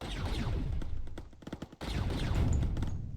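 Rapid turret fire from a Foreshadow defense in the Mindustry strategy game, a dense volley of sharp gunshot-like bursts that keeps going with a short gap near the middle, loud and close.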